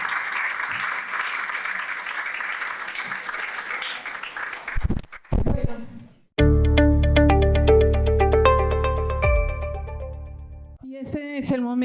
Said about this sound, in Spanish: Por favor, un aplauso para nuestros docentes